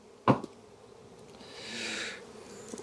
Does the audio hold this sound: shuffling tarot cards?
no